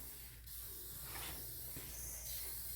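WD-40 sprays in steady hissing bursts onto the cable of a garage door during a repair, faint and close, with no talking.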